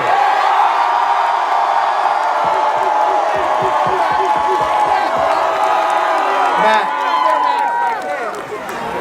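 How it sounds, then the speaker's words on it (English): A large crowd at a Baltimore Ravens football send-off rally cheers, whoops and claps loudly for a player, a sustained roar with scattered clapping throughout, easing slightly near the end. "How about a Ravens round of applause for number 3, Matt Stover"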